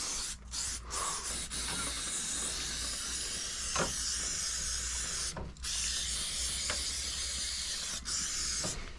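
Cleaner sprayed onto an oily chain and sprocket area of a Suzuki V-Strom 1000 motorcycle, a faint steady hissing spray broken by a few short clicks and pauses, with no talking.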